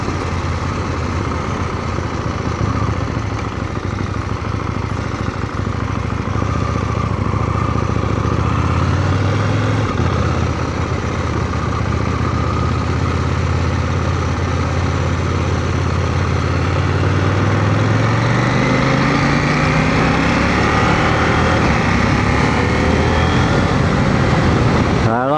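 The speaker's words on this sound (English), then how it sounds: "I like the sound of this engine" A KTM Duke 790 motorcycle with a two-cylinder inline engine and 270-degree crank runs steadily on a road ride, a continuous loud drone rising in pitch as it accelerates, with wind noise.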